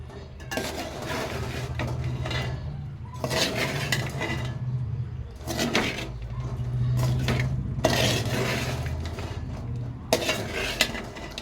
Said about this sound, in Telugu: లాస్ట్ అండ్ ఫైనల్గా ఒక అరచెక్క నిమ్మరసం అయితే కలుపుకుందాము